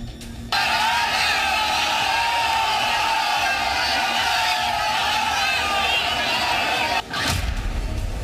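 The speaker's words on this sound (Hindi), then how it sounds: "ज्वाइंट रैली में भीड़ बेकाबू" An uncontrolled crowd at a joint rally of Rahul and Akhilesh roars in a dense, unbroken wall of shouting and noise that starts abruptly and stays loud throughout, with a brief dip near the end.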